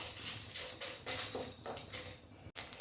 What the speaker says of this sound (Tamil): நல்லா படப்படம் பொரியுது